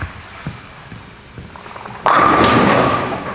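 Bowling ball rolling down an oiled lane with a sudden loud crash into the pins, followed by a sustained clatter of scattering pins, after a quieter stretch of lane noise.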